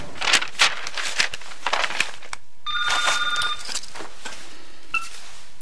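An old-style telephone bell rings in a home in a 1997 television series, a bright rattling trill in two bursts separated by a short pause, with faint background movement.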